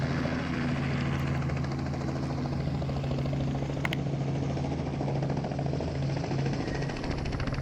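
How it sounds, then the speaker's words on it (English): A helicopter drones loudly nearby, its rotor making a steady thumping hum with a whining engine tone throughout. "there are all these helicopters that tend to buzz about"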